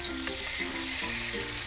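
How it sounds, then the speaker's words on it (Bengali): Chopped tomato sizzles with fried onions in oil for a pangas fish curry, a dense close crackle with rhythmic stirring strokes, no talking. "টমেটোটা আমার হালকা একটু ভাজা হবে পেঁয়াজের সাথে, তাহলে কাঁচা গন্ধটা থাকে না।"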